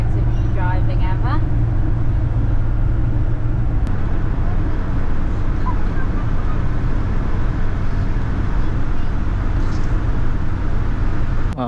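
A camper van cruising on the road, with a loud steady engine drone and road rumble throughout, while people talk over it inside the cab.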